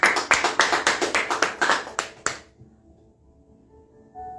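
Church congregation clapping in a quick, even rhythm, about a dozen sharp claps over two seconds before stopping abruptly into near silence with faint background tones.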